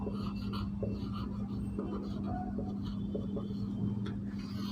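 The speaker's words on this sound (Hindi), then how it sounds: "अब लिखते हैं एंगल्स।" Hand writing of trigonometry angles during a class lesson: close, scratchy pen strokes in irregular short bursts, continuing over a steady low electrical hum, with no talking.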